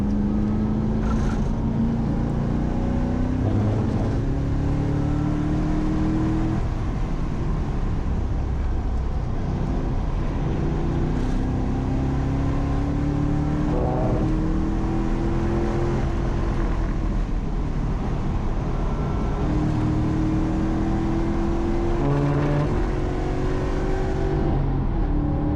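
A Mustang GT track car accelerates hard around Laguna Seca raceway. The engine climbs through repeated rising pulls between shifts, loud and steady from an onboard position, with no talk.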